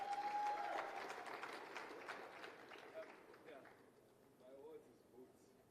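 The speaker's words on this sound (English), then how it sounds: "A big, big round of applause." An audience at a township economy awards ceremony breaks into applause for the mayor, a dense burst of clapping that gradually thins and fades over several seconds, with a voice speaking over it.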